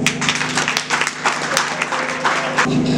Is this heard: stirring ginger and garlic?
no